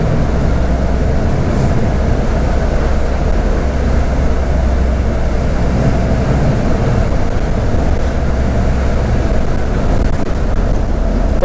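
Steady rumble inside a moving city bus on a São Paulo-area route, a constant low engine and road drone with faint rattles, even in level throughout and free of speech.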